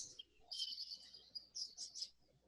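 Budgies chirp and twitter in a breeding bird room lined with rows of nest boxes, giving bright, busy bursts of calls at close range with no talking.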